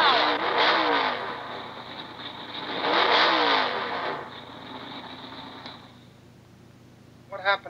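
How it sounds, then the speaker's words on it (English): Supercharged 390 engine in a 1969 AMC Javelin revving, two rising and falling roars a couple of seconds apart, loud and close, then settling lower, with a short sharp burst at the end. "The special 390 engine? It's a supercharger."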